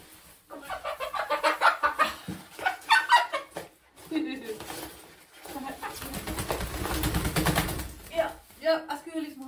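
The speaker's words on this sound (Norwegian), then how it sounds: "Hun her er grå jærhøne." Grey Jærhøne hens clucking inside a henhouse, a series of close, moderately loud clucks and calls mixed with human talking throughout.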